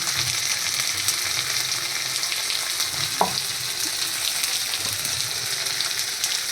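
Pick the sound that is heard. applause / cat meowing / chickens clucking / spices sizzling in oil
spices sizzling in oil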